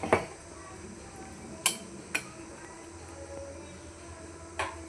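A spoon stirs broad bean palya curry in a pan after water is added. Four or five distinct metallic clinks and scrapes are spaced a second or so apart over a quiet background.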